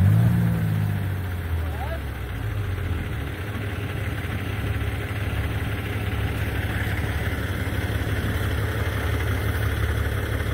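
A Kenworth truck engine idles nearby in a low, steady rumble throughout while a truck is hooked up to pull out a frozen vehicle, with voices under the drone.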